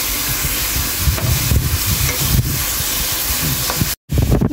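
Chopped garlic and sliced green chillies frying in a pan make a loud, continuous sizzle with stirring scrapes, close up and without voices, broken by a brief dropout near the end.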